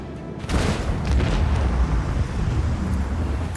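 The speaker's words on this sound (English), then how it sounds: "Oh, the explosion killed me." An explosion in the space-combat game Warhammer 40K Rogue Trader bursts in after a short quiet lead-in, then settles into a loud, sustained low rumble with crackling debris that lasts to the end, with no voices.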